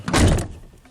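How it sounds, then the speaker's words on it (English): A truck door swings shut with a single solid, close thud, followed by a short fading rattle and quiet. "Let's go ahead and shut the door."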